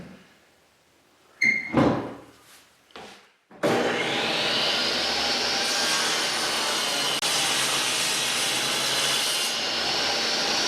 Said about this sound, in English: Now that the pieces have all been planed down to the same thickness, I need to cut them down to 1 1/4 inch.